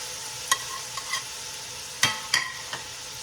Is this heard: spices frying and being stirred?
yes